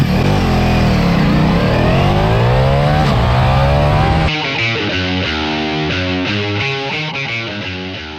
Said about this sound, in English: Now the bike's running, it's got a full system, it's got the dry clutch